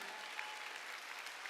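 A church congregation claps together during a Sunday worship service, a steady dense patter of many hands held at an even level for a moment with no talk.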